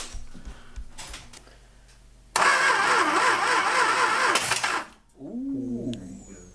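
The engine of an abandoned Dodge Monaco, locked up for over forty years and primed with start fluid, cranks loudly for about two seconds and kicks briefly, then stops, followed by quiet and a bird chirping.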